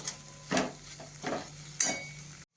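Mustard greens sautéed in a pan at low volume, with a soft background sizzle and three brief stirring scrapes spaced about half a second to a second apart.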